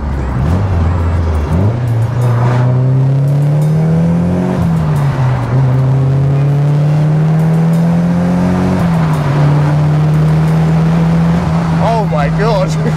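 A Nissan S15 Silvia pulls hard under load, its engine note rising steadily through long sweeping revs with clear harmonics, loud and close from inside the cabin, while someone talks over it.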